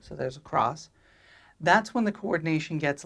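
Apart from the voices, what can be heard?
No distinct noise like a dog, phone or traffic.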